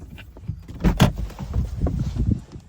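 A car door opening and shutting with keys jingling as people climb out of a car in a residential community, a few close thumps and rattles over a low engine hum.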